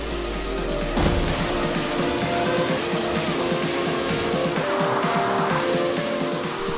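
A Mazda RX-8 engine in the video game Forza Horizon 3 drones continuously with tire squeal and skidding during a team race, steady and loud throughout, with no talking.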